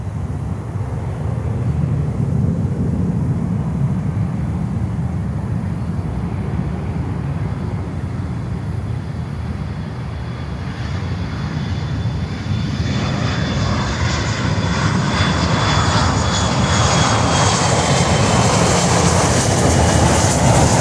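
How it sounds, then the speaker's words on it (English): A World Atlantic MD-83 airliner with a bare metal fuselage at Miami airport, its loud steady jet roar filling the whole stretch and swelling with a rising whine toward the end. "I want to get this World Atlantic with the bare metal fuselage painting"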